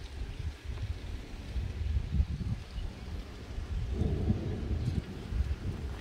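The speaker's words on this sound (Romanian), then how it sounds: "S-aud sunete de la ploaie." Rain falls near Lake Tarnița in Cluj while thunder rolls. A dense, steady wash of rain carries deep rumbles that swell and fade, with no voices.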